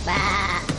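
A single sheep bleats close and loud, one wavering sustained call under a second, heard alone without talk.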